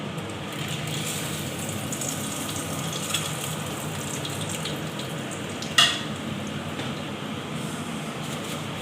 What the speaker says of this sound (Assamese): এই তেজপাত দালচেনি ইলাইচি আৰু জলকীয়া এইখিনি ভাজি লওঁ